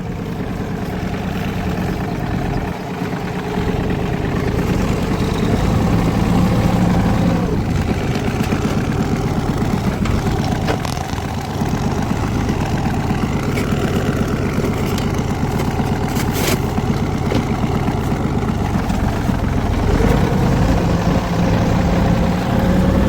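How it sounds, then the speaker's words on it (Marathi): A tractor engine runs steadily nearby, a loud continuous low rumble that idles on with small variations and no talking. "भारी वाटतं ट्रॅक्टर चालवाय"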